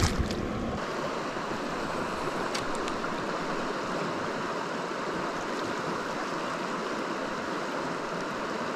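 A river flowing again after a drought, heard from a small boat: a dense, steady rush of moving water and wind, close and fairly loud, unbroken throughout with a brief knock at the start.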